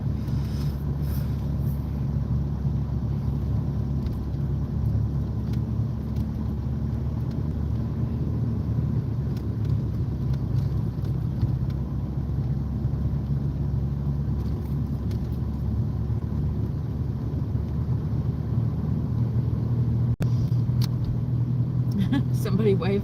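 Car driving at night from Pigeon Forge into Gatlinburg in the Smoky Mountains of Tennessee, a steady low road rumble and engine drone throughout, loud and close, with people talking inside the car.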